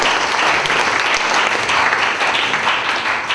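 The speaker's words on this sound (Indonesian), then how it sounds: "Tepuk tangan dulu bisa hadir semua" Dense, loud applause from a room of students at a training session, steady and sustained throughout with no pauses.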